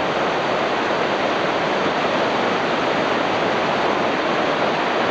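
Whitewater rapids on the Gauley River in West Virginia, with holes, hydraulics and waves, give a loud, steady, unbroken roar of rushing water that holds constant for several seconds.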